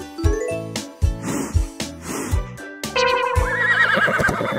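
A cartoon horse neighs several times in quick whinnying bursts, loud and close, with snorts and a bright jingling near the end.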